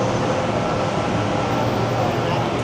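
Constant rumbling roar inside a packed BTS Skytrain car in Bangkok, a dense steady wash of rolling noise with no pauses, close and loud.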